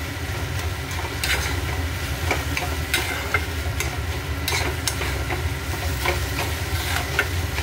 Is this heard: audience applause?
no